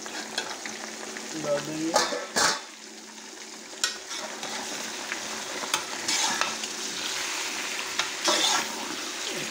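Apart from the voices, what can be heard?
chicken pota kalaji frying and stirred in pan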